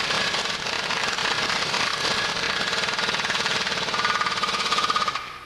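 An impact wrench rattles hard on a wheel bearing nut during greasing, a loud continuous hammering burst that holds steady for about five seconds before cutting off abruptly.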